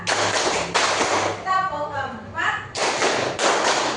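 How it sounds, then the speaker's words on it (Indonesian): A group claps in bursts during a counting clap game, several short rounds of rapid clapping separated by a pause where a voice speaks, then the clapping resumes loud and close. "tepuk satu, tepuk dua, tepuk tiga, tepuk empat"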